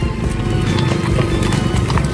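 Carabao hooves clopping steadily at close range as the water buffalo haul sacks of harvested rice on a farm, with a dense, continuous run of hoof falls and faint voices in the background.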